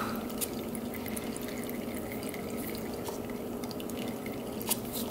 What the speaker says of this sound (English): Looks like she's gonna keep draining.